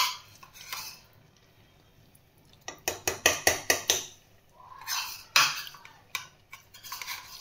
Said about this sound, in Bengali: এই আলুটা এখানে এবার মিক্সড করছি।